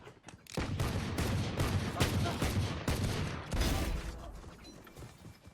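Rapid bursts of gunfire in the video game Valorant crackle close and loud, with overlapping shots in quick succession over several seconds before thinning out.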